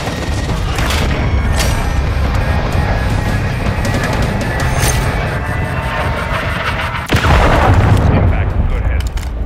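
Artillery fire mission in a military video game, with heavy, continuous booming explosions and a sharp louder blast near the end, under a dense roar of battle noise.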